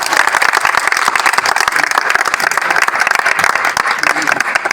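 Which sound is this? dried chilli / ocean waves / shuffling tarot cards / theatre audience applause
theatre audience applause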